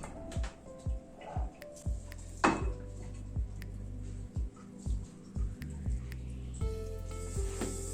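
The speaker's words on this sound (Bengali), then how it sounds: "এবার আলুটাকে স্ম্যাশ করে নিচ্ছি" Boiled potatoes mashed in a bowl for a beetroot and prawn chop, heard as a run of soft, squishy thuds and scrapes with light clinks of a utensil against the bowl, repeating roughly every half second, close by.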